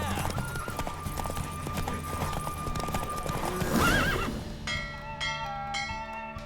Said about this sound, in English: Don't spare the horse. I adore the speed, the rush of air.